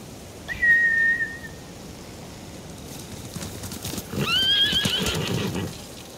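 Horses neigh twice in a video game, Ghost of Tsushima, a shrill whinny near the start and another longer one later, over soft hoofbeats and low background rumble.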